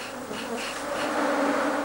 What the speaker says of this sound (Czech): Brazilské včely vypadají podobně jako jejich evropské příbuzné